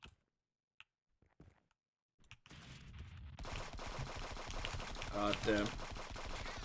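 Gunfire in a shooter video game during a close-range fight with a sniper rifle, a dense, loud burst of shots that swells and keeps going after a brief quiet stretch, with a short spoken exclamation early on.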